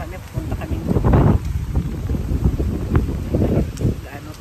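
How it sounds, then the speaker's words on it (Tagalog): Strong wind buffets the microphone outdoors, gusting roughly and unevenly in loud rumbling bursts while a person talks over it. "Lakas ang hangin."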